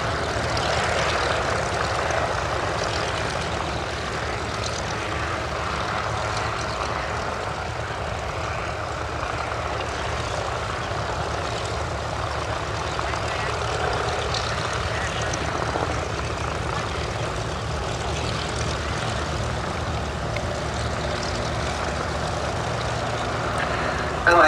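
A Rotorsport UK Calidus gyroplane's propeller engine drones loud and steady through a final display pass at an outdoor summer airshow at Duxford, sustained without a break.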